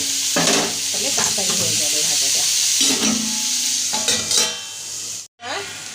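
Cabbage frying in a pan with special spices, loud continuous sizzling broken by repeated scraping stirs of the spatula, close up, ending with a short sudden cutoff.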